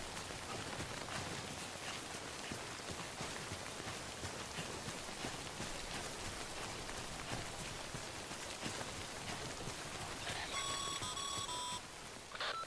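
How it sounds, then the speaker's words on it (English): Steady rain falls in the game Death Stranding, a dense even hiss that runs unbroken throughout, with a brief ringing electronic chime appearing near the end. "Did that sign make it rain?"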